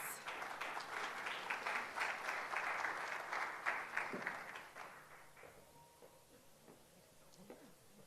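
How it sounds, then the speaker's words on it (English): Audience applause at a nonprofit fundraising event as sponsor Lewis from Bank of America comes on stage; fairly quiet, distant clapping from a modest crowd that swells, then thins and tapers off to a few scattered claps. "So let's give Lewis a round of applause."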